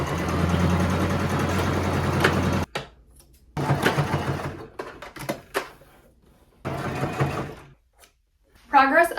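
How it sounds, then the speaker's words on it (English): Sewing machine stitching fabric ties onto the corners of a thrifted garment, a steady close mechanical whir in several runs broken by short stops. "I'm going to sew the other end of these to the corners"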